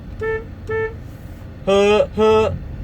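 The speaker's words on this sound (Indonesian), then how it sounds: "Yang pertama yang tidak saya suka adalah bunyi klaksonnya." A Hyundai Creta horn honks four times, two shorter lighter beeps followed by two longer, louder blasts, close and clear over a low background rumble.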